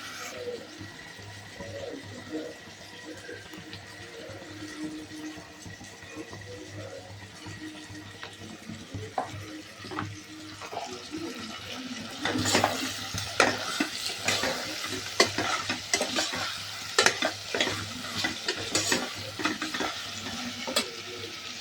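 Chicken biryani ingredients frying and being stirred in a pan with ginger-garlic paste, a steady sizzle under frequent scraping stir strokes that grow louder and busier in the second half.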